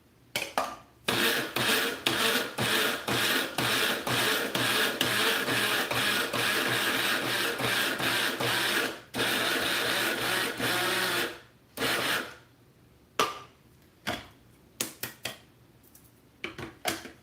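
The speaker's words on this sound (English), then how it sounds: "I love my spice grinder." Electric spice grinder in a home kitchen, loud close whirring bursts with a rattling rhythmic texture, a long run then several short pulses separated by pauses.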